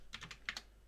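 A few quick keystrokes clatter on a computer keyboard, five or six crisp, close taps in a short burst, then quiet.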